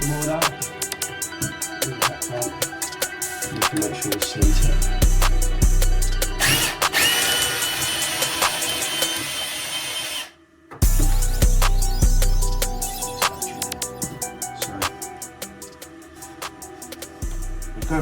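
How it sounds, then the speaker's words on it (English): An SDS hammer drill fitted with a 15 mm bit bores a hole through a house wall for an outside tap, a loud continuous hammering grind that runs on with one brief stop partway, close by and with no talking. "Drill a hole through."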